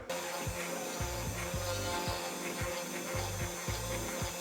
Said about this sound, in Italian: è una fresa positiva, quindi tira il trucciolo verso l'alto